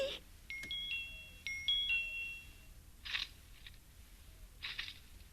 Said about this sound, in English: let's see if I can get the tip through the bars and against the doorbell button.